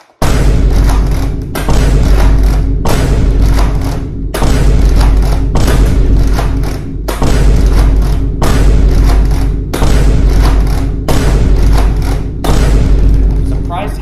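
The Doomlands Judge, an oversized gun in a video game, fires in a slow series of heavy, loud booming thuds, each blast followed by a brief gap, with no talk over them.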